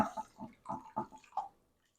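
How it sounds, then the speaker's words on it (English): Liquid mixture poured over rice in a dish for a chicken and rice casserole, a series of five or six short splashy glugs close by, then quiet. "we're just going to sort of pour this in with the rice there."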